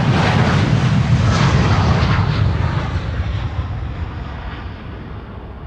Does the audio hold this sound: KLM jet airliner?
yes